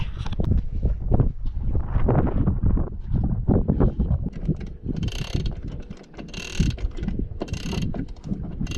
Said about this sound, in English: so now I am going to try to winch so that we get sideways.